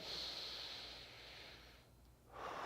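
A slow, deep diaphragmatic inhale drawn in through the nose during a breathing demonstration, a steady airy rush that fades midway and then surges again, close and fairly quiet with no talking.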